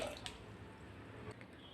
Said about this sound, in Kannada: ಒಂದು ಗ್ಲಾಸ್ ನೀರು ಹಾಕ್ತಾಯಿದ್ದೀನಿ ದೊಡ್ಡದೊಂದು ಗ್ಲಾಸಲ್ಲಿ